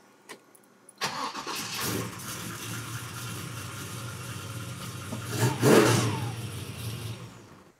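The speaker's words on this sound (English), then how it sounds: "that little starter puts out some serious torque and fired our car right up" A car engine is cranked by a compact gear-reduction mini starter and fires up quickly, a brief whir catching into a steady idle that swells with a rev near the end, close and clear with no talk.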